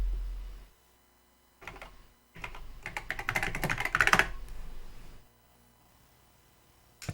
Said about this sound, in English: It's funny how kids want keyboards that sound like this today for their PC.